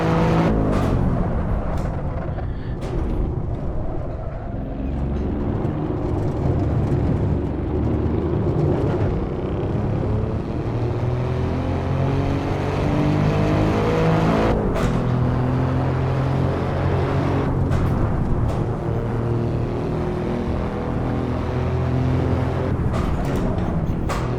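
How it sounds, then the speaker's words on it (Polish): An Alfa Romeo Giulia Quadrifoglio with a 2.9 V6 bi-turbo engine roars along the Nordschleife, its loud exhaust rising and falling through gear changes in a continuous, close, throaty drone. "dźwięk naprawdę tego wydechu jest fantastyczny, fenomenalna sprawa."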